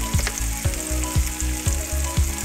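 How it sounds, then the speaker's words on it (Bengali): Chopped green chilies and capsicum sizzle in a hot pan as a spatula stirs them, scraping in a steady rhythm of about five strokes over continuous frying hiss. "কাঁচা লঙ্কা কুচি দিয়ে দিলাম, এটাকে ভালো করে নাড়াচাড়া করে নেব।"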